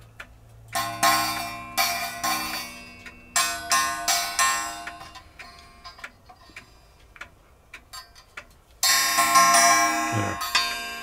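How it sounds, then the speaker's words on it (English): A cuckoo and quail clock made by Alexander Fleig strikes its double gong set with hammers, giving a run of bright metallic bell-like tones in clustered groups with short pauses, ringing close by and alone, with a denser burst of strikes near the end. "Most of these cuckoo quail clocks have a double gong set."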